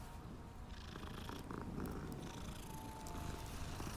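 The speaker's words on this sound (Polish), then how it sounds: "Oczywiście głaskamy kotka." A cat purring while being petted in the video game Hogwarts Legacy, a steady, close, low rumbling purr that continues under faint game ambience, with no talking.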